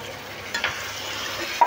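Spices and sambar powder fry in a hot pan with a soft, steady sizzle, punctuated by a few light scrapes of stirring, close and fairly quiet.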